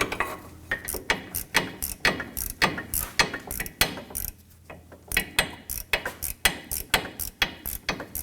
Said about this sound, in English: I want to push this through, and we're going to get the nut started.